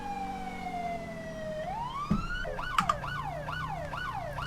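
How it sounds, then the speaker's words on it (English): Police car siren in GTA 5 with the LSPDFR mod on a London night shift, first a long descending wail, then rapid repeating yelps close by, with a couple of sharp knocks over a low engine hum. "We'll probably turn our sirens off up there so that we can assess the situation without them knowing the police are there."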